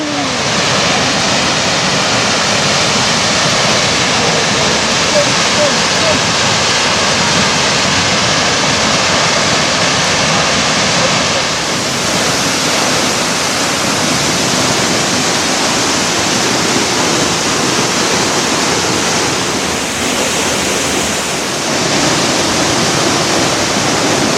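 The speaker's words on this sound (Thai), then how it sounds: "น้ำตกมีความอลังการมากค่ะ เพราะว่า เป็นน้ำที่มาจากหิมะที่ละลาย แล้วก็ส่วนหนึ่งก็มาจากน้ำฝนค่ะ" Steinsdalsfossen, a waterfall in Norheimsund, Norway, fed by melted snow and rain, roars as a steady, loud broadband rush of falling water, unbroken throughout with only slight dips in intensity.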